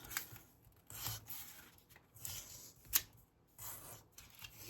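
Scissors cut through paper in a scrapbooking layout, several separate snips and crisp paper rustles, close and quiet, with short pauses between cuts.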